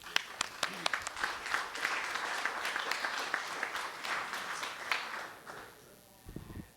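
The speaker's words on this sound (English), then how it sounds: "you should applaud yourself" Audience applauding at a property owners' association annual meeting, a steady round of clapping from a sizable indoor crowd that holds for several seconds, then fades out.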